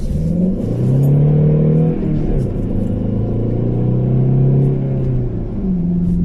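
A car on Uniroyal Rainsport 5 tyres pulls out of a wet roundabout, its engine revving up loud and close with a rising, then steady drone and a gear change partway through, over road rumble.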